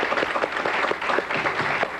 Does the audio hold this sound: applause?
yes